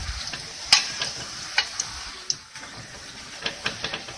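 Tortillas frying in oil for enchiladas give a soft crackling sizzle, with sharp ticks and taps from turning them in the pan coming at irregular intervals. No one speaks.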